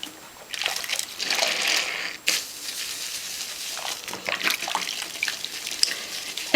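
A knitted piece being hand-felted in hot, soapy water in a sink: steady sloshing and splashing as it is agitated, with brief louder surges, close up and without talk.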